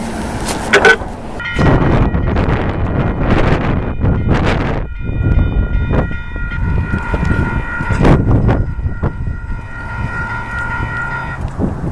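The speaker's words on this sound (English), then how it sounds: "a bridge raises, there are 3 different alarms that sound." On the Welland Canal, a raising lift bridge sets off warning alarms: sustained tonal sirens and bells ring out loudly over heavy rumbling and clanking machinery, with bursts of mechanical noise throughout.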